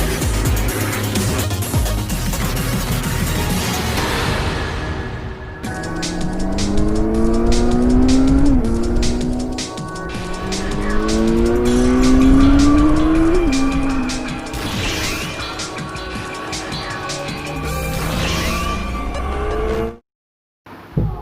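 Honda CBR650R motorcycle engine revving loud and close, pitch climbing in repeated sweeps then dropping back, with a steady high whine and a brief quiet gap near the end.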